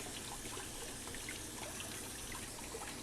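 Tap water runs in a steady, even trickle while potatoes are scrubbed clean, a soft continuous splash with no voices over it.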